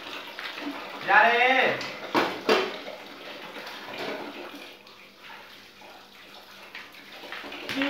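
Tap water runs and splashes while dishes and trays are rinsed at a sink, with intermittent clatter of dishware, under close conversational speech.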